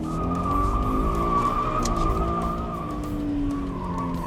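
A Scion FR-S on track tires slides in a sustained drift, a wavering high tire squeal over a steady engine drone, close and loud throughout with no talk.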